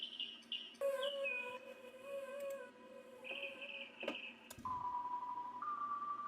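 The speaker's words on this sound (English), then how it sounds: "I chopped up lots of little bird sounds." Chopped-up bird sound samples play as short, faint, whistled chirps and sustained tonal calls, cut into pitched fragments that shift up and down against a soft background wash.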